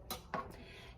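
Potatoes pushed around a frying pan with a utensil, giving two quick scraping clinks in close succession followed by a faint sizzle, quiet and close.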